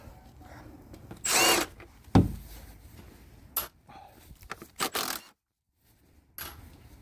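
Power tool loosening a 15mm strut bolt on a 2013 Chevy Impala, with short bursts of whirring and rattling clanks separated by pauses, the bursts loud and close, one brief heavy impact partway through.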